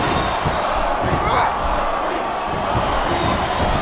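A roaring arena crowd cheers through a wrestling match in WWE SmackDown vs Raw 2010 on Xbox 360, a loud unbroken wash of noise with thuds of action underneath.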